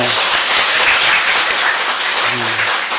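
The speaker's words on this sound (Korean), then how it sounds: "박수 한번 쳐주세요" Church audience applause, a steady wash of many hands clapping for the whole stretch, with faint voices briefly underneath near the start and end.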